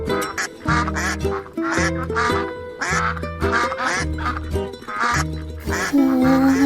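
Many ducks quacking in a rural household scene, the calls blending with a loud, steady musical background throughout.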